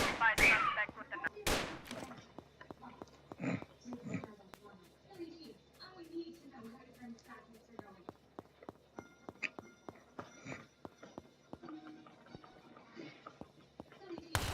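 Gunfire rings out in a police gunfight in the video game Maple County: a few loud early shots, then a scattered run of sharp cracks amid movement noise and voices.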